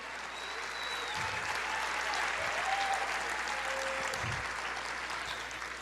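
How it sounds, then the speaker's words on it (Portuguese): Church congregation applauding the Lord during a Portuguese-language sermon, a steady, dense wash of clapping that holds for about six seconds with faint tonal voices or whistles threaded through it. "Aplauda o Senhor, deixa o júbilo de Deus fluir na tua história"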